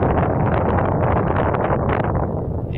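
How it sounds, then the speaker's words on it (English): Wind gusts outdoors at Wilson Arch in Utah, a steady, loud roar buffeting the microphone throughout with no voices. "Yeah, it's a little windy."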